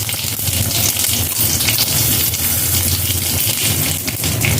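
Dried red chillies sizzle in hot oil alongside whole cumin and bay leaf, a loud, steady frying hiss with scattered crackles, close and uninterrupted, with no one talking.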